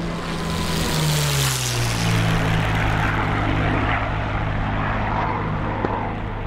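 A WWII propeller aircraft in the DCS flight simulator roars loudly during takeoff, its engine drone pitching and shifting as it rolls and climbs away, holding close and powerful throughout.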